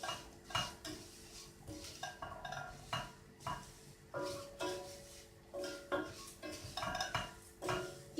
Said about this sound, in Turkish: Şehriyemin rengi dönene kadar kavuracağım.